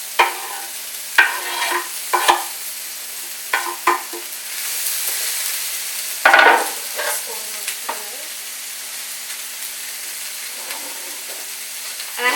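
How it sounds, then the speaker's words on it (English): Sliced vegetables sizzle steadily in coconut oil over medium heat in a preheated pan, with a few sharp stirring scrapes and taps cutting through the constant close hiss. "I'm going to throw that into my preheated pan to saute for a few minutes"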